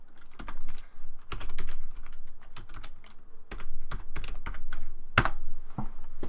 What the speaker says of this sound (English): you go into the address bar and you type in, I put in firefox.com